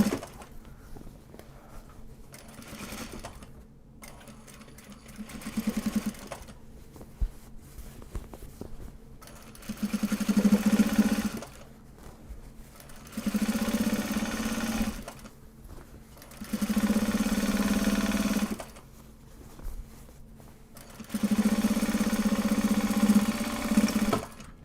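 A sewing machine stitching Japanese fabric project bags runs in steady, close, whirring bursts of a few seconds each. Short pauses separate the bursts, with faint handling noises in between.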